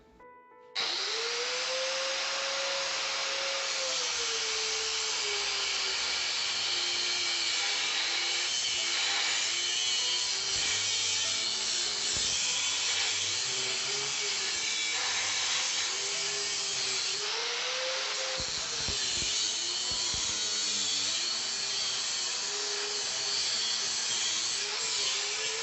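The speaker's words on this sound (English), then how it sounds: "remove them with an angle grinder" An angle grinder cutting through pipes set in concrete during a renovation, one loud continuous whine that starts abruptly and holds for a long stretch, with brief dips in pitch as the blade bites.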